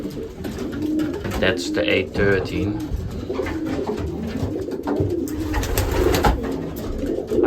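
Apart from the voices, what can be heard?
racing pigeons cooing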